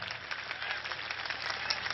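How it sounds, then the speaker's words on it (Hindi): Crowd at a political rally clapping, a sustained, even roar of many hands heard from a distance, slightly muffled and steady for the whole stretch. "ठोको ताली"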